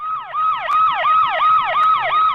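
An emergency siren wails loud and close in a steady, rapidly repeating falling sweep, with nothing else over it.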